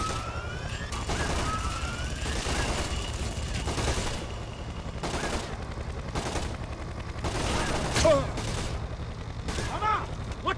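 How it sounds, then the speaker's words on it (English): Sustained gunfire in the stealth action video game Splinter Cell: Conviction, dense bursts and repeated shots rolling over a steady low rumble, with sirens, shouted voices and game effects mixed in. "Request permission to start shooting, sir! Permission granted. There he is! Light him up!"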